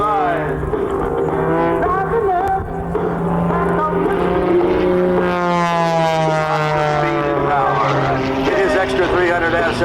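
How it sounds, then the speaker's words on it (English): Extra 300S aerobatic propeller plane performing tumbles and turns at a military air show at Quonset ANGB, a steady droning engine tone rising and shifting in pitch, heard under continuous announcer commentary. "Extra 300S as he turns the aircraft around to the left side of the demonstration zone"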